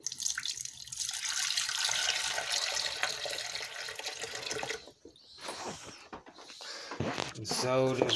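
A tap runs steadily for several seconds, filling a tarantula's water dish, before the flow stops and a person starts talking close by.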